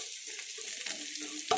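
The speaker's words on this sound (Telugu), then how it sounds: "ఇలా ఫ్రై అయిపోయినాయి, తీసేసుకున్నాను ఆనియన్స్" Onions frying in a heavy-bottomed pot for Hyderabadi chicken biryani give a steady close sizzle and hiss, with soft scraping stirs throughout and a sharper clatter of the spoon near the end.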